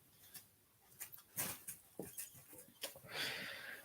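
A dog whimpers and whines in short, uneven bursts at moderate distance, mixed with rustling and soft thumps, fairly faint with no talk.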